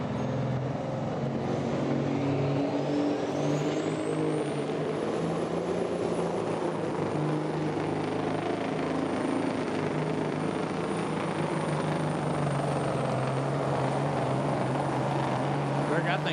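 An over-the-road pulling truck, driven by a farmer and trucker, roars with a steady, loud engine drone at the Tomah truck and tractor pull, and an announcer talks over it throughout.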